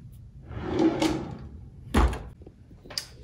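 A drawer in a master bathroom cabinet is pulled open, giving a muffled sliding rumble and then a few distinct wooden thunks spaced about a second apart, close by with no talking.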